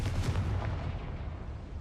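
A Confringo fire-curse explosion in Hogwarts Legacy, a loud, sustained booming blast with rumbling low end that slowly decays over about two seconds, with no talking.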